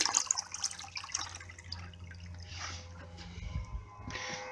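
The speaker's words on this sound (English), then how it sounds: "You can hear a bit of gurgling around the system as it's going round." Faint, irregular gurgling and trickling of coolant circulating through an Alde G13 caravan heating system, quiet and intermittent against a low background hum.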